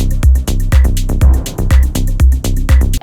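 Blip sample from an Among Us sample flip, processed through a simple EQ, black hole reverb and delay, repeating in a steady rhythm with punchy low hits and bright echoing blips, loud and alone without talk.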